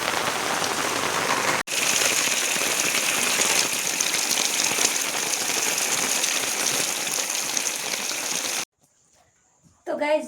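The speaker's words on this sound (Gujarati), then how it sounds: "આવો તો ચોમાસામાં નહીં આવ્યો એવો વરસાદ છે." Heavy rain pouring down in a village, a loud, dense, unbroken hiss of drops hitting surfaces that cuts off abruptly near the end, where a voice briefly speaks.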